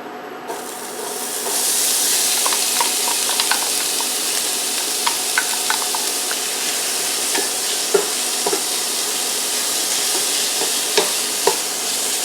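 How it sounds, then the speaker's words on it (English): Sliced peppers and onions sauteing in hot oil in a pan, a steady loud sizzle throughout with occasional small pops and stirring scrapes. "I'm going to start sauteing up my peppers and onions so I can get those nice and soft before I put the sausage in"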